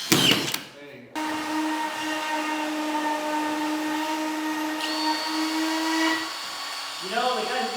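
A small-bit drill drives screws into 5/8 drywall during a garage build, giving a steady, close motor whine for about five seconds before it winds down, with a brief noise at the start and another at the end.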